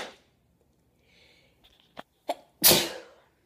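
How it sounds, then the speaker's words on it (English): A single loud, sharp sneeze from a person with a cold, preceded by a few quiet sniffs and short intakes of breath in an otherwise silent room. "I just stabbed and I sneezed."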